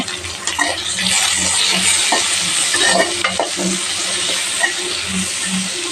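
Onions and tomato sauté in a hot pan, a steady close sizzle broken by repeated scraping stirs of a utensil against the pan throughout.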